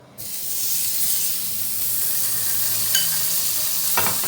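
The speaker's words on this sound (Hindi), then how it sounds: "अब हम इनको फ्राई करना, ग्रिल करना स्टार्ट करते हैं। ये मैं 1 टीस्पून मक्खन का ले रही हूँ।" Mutton chops sizzle and fry in butter in a pan over medium heat, a steady loud hiss that runs throughout with a few sharper spits and crackles near the end.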